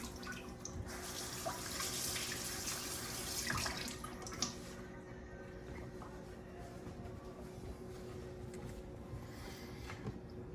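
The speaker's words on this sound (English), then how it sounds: "Let me wash my hands." A sink tap runs steadily while hands are washed under it in a kitchen during dough making, a continuous close splashing rush with no talking.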